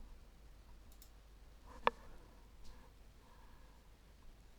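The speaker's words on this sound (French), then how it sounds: "il vous suffit de cliquer avec le bouton droit ici de la souris" A single crisp right-click of a computer mouse at a desk, a short isolated tick over a faint, steady room hiss.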